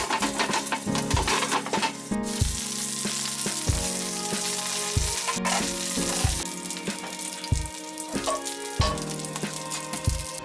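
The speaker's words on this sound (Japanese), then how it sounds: "底がきつね色になったらひっくり返して弱火に落として蓋をして1分くらい蒸し焼きにしていきます" Chicken tsukune with cartilage cook in a covered pan over low heat, a continuous close sizzle with repeated metallic knocks and lid clatters spaced irregularly throughout.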